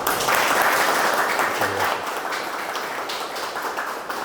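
Applause from a conference audience fills the room steadily for about four seconds, dense and fairly loud, with no talking over it.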